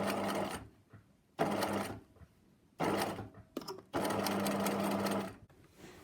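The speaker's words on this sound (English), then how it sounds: "So I'm going to stitch until I go over the end of this, and then I will backstitch." Sewing machine stitching bias binding, then backstitching. Close, loud whirring runs in four bursts of roughly one to one and a half seconds each, separated by quiet pauses with small clicks.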